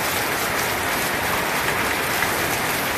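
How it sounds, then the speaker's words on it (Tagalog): Steady heavy rain on a cold day, an even dense hiss of falling drops with no pauses, loud and close. "ulan"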